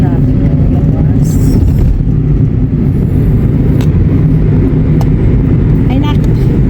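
Dense road traffic outside on a busy street, a steady loud rumble of engines and passing cars with a faint horn or two, while people talk over it.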